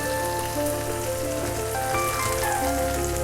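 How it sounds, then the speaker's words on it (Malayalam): Leftover idli pieces fry in hot oil in a pan, giving a steady, close, crackling sizzle throughout, with faint tonal sounds in the background and no talking. "തീ ഒന്ന് കുറച്ച് കൊടുത്തിട്ട് ഇത് വറുത്ത് കോരുക."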